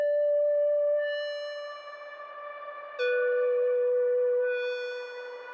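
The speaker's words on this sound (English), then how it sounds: "one of my favorite sounds, with this tubular lead sound that I've used before." Synthesizer tubular lead with a round, square-wave tone, two sustained soft notes that each swell and slowly fade, played alone at moderate volume.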